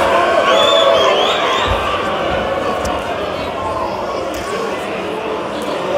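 Audience at an evening talk-show event cheering, whooping and shouting in response to a free-giveaway call, a loud continuous crowd roar filling the whole stretch and easing slightly toward the end.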